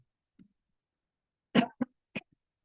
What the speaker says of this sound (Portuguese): Eu estou com muita tosse, muita coceira na garganta.